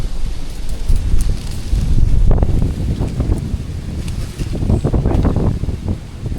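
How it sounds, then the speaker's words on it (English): Strong wind gusts across the microphone outdoors on a cool spring farm day, a steady roaring rumble that swells and eases with no speech. "So the wind's blowing."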